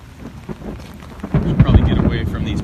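Thunder rolls through a thunderstorm after a lightning strike near a flooded street in Scott Township, starting as a low rumble and swelling into a loud, close, sustained boom with rain noise mixed in.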